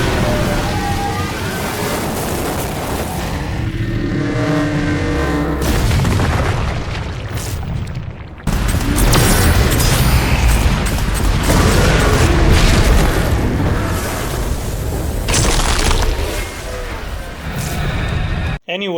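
Brutal fatality kills in the video game Doom: loud, dense booming impacts and crunching blows layered with explosive bursts, sustained throughout with an abrupt cut midway before the pounding resumes.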